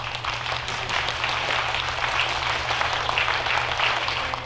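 Steady, dense applause from a concert audience welcoming a choir at a performance hall, continuous and fairly loud throughout with a low hum beneath.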